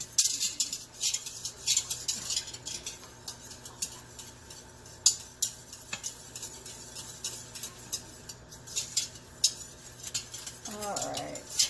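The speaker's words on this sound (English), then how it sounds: "make sure all that yogurt is blended well with the milk." Yogurt being whisked into milk, a utensil clinking and scraping rhythmically against the bowl in quick repeated strokes, fairly close and moderate, with a brief murmur of voice near the end.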